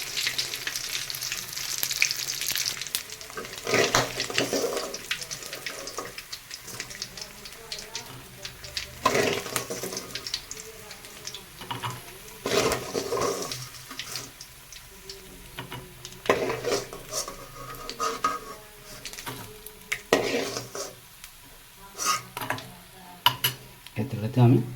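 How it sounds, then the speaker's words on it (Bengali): Whole eggplants fry in hot oil left over from frying fish, giving a steady crackling sizzle with occasional spatula scrapes and clinks of the pan, moderately close and fairly quiet. "এই তেলেতে আমি বেগুন গোটা ভেজে নেব"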